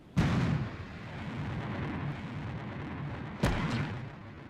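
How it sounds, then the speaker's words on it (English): Deep rumbling booms from a spacecraft lander's retro rockets igniting during descent: a sharp onset roars into a sustained low rumble, then a second loud burst follows, with no talk. "Expected retro rocket ignition on my mark."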